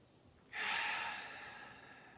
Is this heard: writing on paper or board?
no